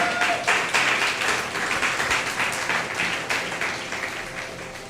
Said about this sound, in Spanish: Denle ese fuerte aplauso al Señor.